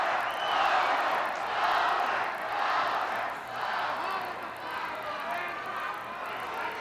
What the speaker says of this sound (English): But you can see this crowd, this capacity crowd distracting, Sergeant Slaughter.